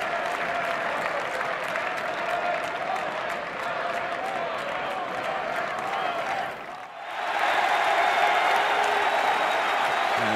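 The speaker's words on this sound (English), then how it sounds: "Now, listen to this amazing Chatrier crowd" Large tennis crowd at Court Philippe-Chatrier, Roland-Garros, during the 2021 men's final, applauding and cheering loudly and steadily, with a brief dip in the middle before the ovation swells again even louder.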